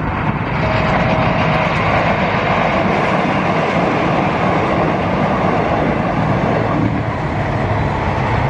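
An airport rail link passenger train rumbles past close by, a loud continuous roar of wheels and carriages on the rails, steady throughout with faint clattering.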